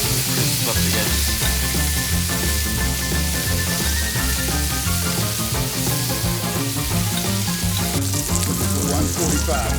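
Blackened ahi tuna sears in butter with a loud, dense, steady sizzle and crackle of popping fat, continuous throughout with no talking.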